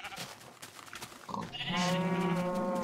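Sheep bleating in the video game Minecraft, a sustained nasal bleat rising clearly after a few soft thuds and clicks.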